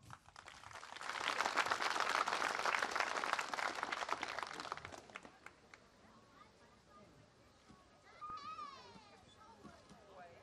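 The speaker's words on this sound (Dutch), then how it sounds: "Applaus!" A burst of applause at an outdoor village gathering, rising quickly to a full patter of claps for a few seconds then fading out, followed by scattered crowd voices and children's chatter in the background.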